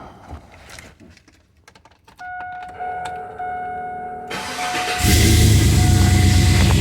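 A Chevrolet Silverado truck engine cranks and starts: faint clicks and a whine build, then the starter engages and the engine catches into a loud, steady idle roar that fills the last seconds.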